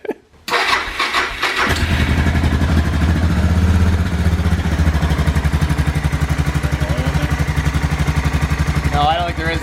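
A Suzuki DR650 motorcycle engine fires up and settles into a loud, steady, rapid thumping idle close by, with people talking over it.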